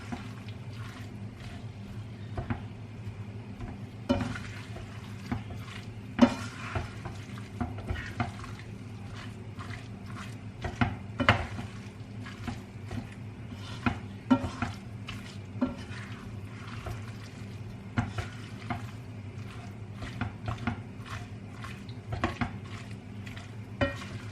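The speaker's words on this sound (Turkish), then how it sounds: "salçamla beraber de bir iki dakika karıştıracağım" Onion and tomato paste are stirred in a frying pan, a soft continuous sizzle under frequent, irregular spatula scrapes and taps close by for the whole stretch.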